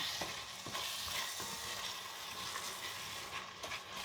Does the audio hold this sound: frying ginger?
yes